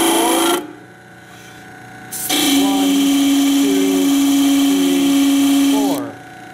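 A disc sander removing material whines steadily at high pitch, stopping briefly then running again for several seconds before spinning down.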